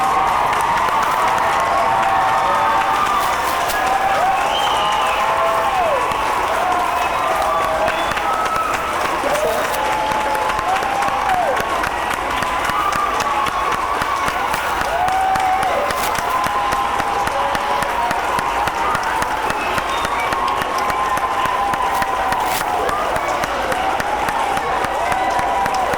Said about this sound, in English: So if they would stand up for a round of applause from all of us here.